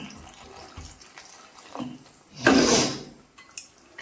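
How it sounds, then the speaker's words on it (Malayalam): Boiling water poured into a pan of okra curry (vendakka puli), a short splashing pour of about a second rising over quiet kitchen background. "ഇതിലേക്ക് കുറച്ച് വെള്ളം ഒഴിച്ചു കൊടുക്കാം"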